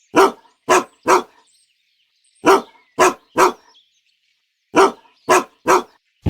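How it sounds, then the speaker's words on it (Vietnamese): A dog barks loudly and close in three quick bursts of sharp barks separated by short silences. "Dog."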